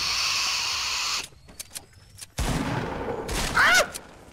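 Gunfire in a video game battle, a dense burst of rapid shots at the start, a short pause with a few scattered sounds, then another loud volley with a sharp crack near the end.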